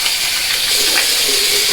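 Cold tap water runs in a steady broadband hiss as a safety razor head is rinsed under it, continuous and fairly loud with no talk.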